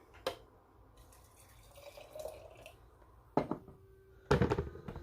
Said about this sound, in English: I'm going to add a little bit of hot water down here on the bottom